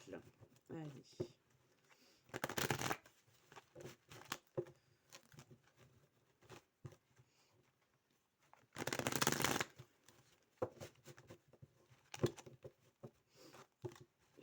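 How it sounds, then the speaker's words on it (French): Oracle cards are shuffled up close in two loud, fast riffling bursts separated by quieter handling and tapping of the deck, with a voice speaking softly between the bursts. "Je les mélange bien parce qu'elles sont fatiguées là, les cartes."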